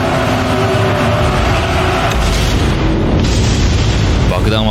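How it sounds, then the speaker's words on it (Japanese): An underwater bomb explosion off Central America, rendered as a continuous loud rumbling boom with dense low roar sustained throughout, no clear speech. "中米付近の海中で爆発"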